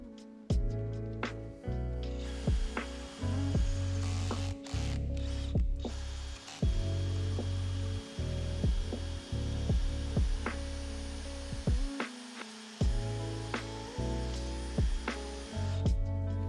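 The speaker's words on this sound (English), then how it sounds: "Now I'm gonna drill the full hole and it should be good." A power drill bores a full-size hole while a part is mounted during car tuning work. The motor whirs loudly in repeated bursts with ratcheting clicks between them, and no voices are heard.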